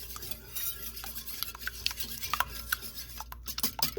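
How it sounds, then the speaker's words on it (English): Three eggs are whisked in a bowl for a spring green quiche. Quick, uneven clicks and taps of the whisk against the bowl ring out close over a soft scraping stir, with no talking. "this is 3 eggs. We're just gonna whisk it"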